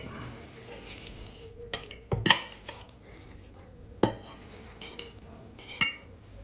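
Pasta being served onto plates in a home kitchen: scattered clinks and knocks of utensils against pots and dishes, a few sharp close clatters among quieter scraping.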